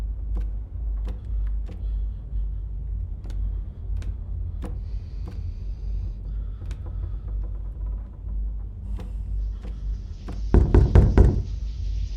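In a horror video game, a series of sharp knocks comes at irregular intervals over a low steady rumble, and a louder burst of clattering noise rises near the end.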